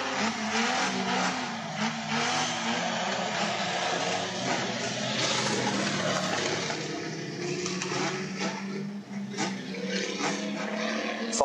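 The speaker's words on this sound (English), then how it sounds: "Danny Green, your race leader, across the line now." Race cars roar around a track during a consolation race. The engine noise is dense and sustained, with tire squeal and passing cars swelling and fading, heard from trackside at a moderate distance.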